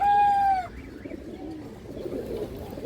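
A high-quality male pigeon of a large, big-headed breed with red-ringed eyes gives one clear, loud coo, followed by quieter low murmuring and faint rustling nearby.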